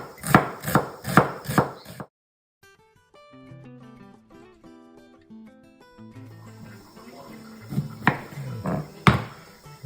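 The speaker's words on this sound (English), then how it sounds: "Chopping the red onion." A knife chops red onion on a cutting board in a home kitchen, giving several sharp, evenly spaced knocks. Soft background music plays after the chopping stops, and a few more chops are heard later.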